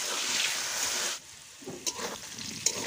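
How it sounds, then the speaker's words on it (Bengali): Potato pieces hit hot oil in a kadai with a loud, hissing sizzle for about a second. The sound then drops to a quieter crackle with a couple of small clinks. "কড়াইতে আমি তেল দিয়ে দিয়েছিলাম, তারপর আলুগুলোকে দিয়ে দিচ্ছি"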